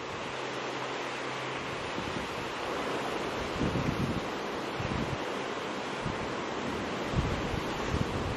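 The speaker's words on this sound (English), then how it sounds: "It's very wavy. It's almost just like open ocean, and the waves are crashing on the rock a lot." Rough, open-ocean waves crash repeatedly against rocks off St. John in the US Virgin Islands, a broad continuous roar of surf with wind buffeting the microphone and occasional heavier surges.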